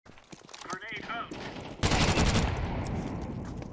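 A rapid burst of automatic gunfire in the video game Counter-Strike 2 erupts loudly and continues steadily to the end, preceded by shorter shots and a brief stretch of a player's voice.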